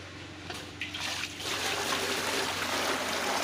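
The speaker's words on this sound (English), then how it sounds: "pour the water into the basin." Water is poured from a container into a basin for hand washing laundry, a steady close splashing trickle that swells into a fuller continuous gush.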